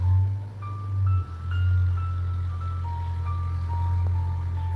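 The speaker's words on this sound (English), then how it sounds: "Who the heck turned on their car?" A low, steady car engine rumble drones throughout, fairly close, with faint tonal beeps or hums drifting above it.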